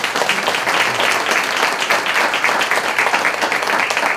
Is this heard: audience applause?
yes